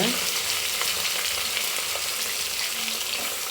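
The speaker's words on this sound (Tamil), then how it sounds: "வெங்காயம் ஒன் நிறம் ஆகும் வரை நல்லா வதக்கிக்கோங்க" Chopped onions sauté in a pan for mutton biryani, giving a dense, constant frying sizzle heard up close and uninterrupted, with no speech.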